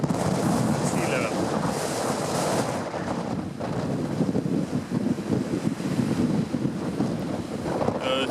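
Sea surf rolls onto a sandy beach with a steady, loud wash of breaking waves, heavy wind buffeting the microphone throughout, and a brief voice in the background.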